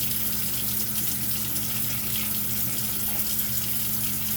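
Kitchen tap running hard into a sink while meat is rinsed under it, a constant close gushing hiss with a low hum beneath and no voices.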